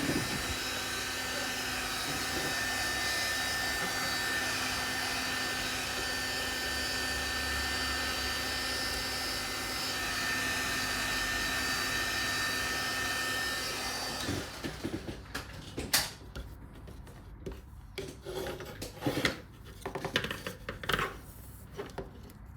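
A heat gun warms vinyl graphics wrap on a Triumph Daytona 660 motorcycle, a steady close blowing whine for about fourteen seconds, then cutting off, followed by quieter handling sounds of working the film.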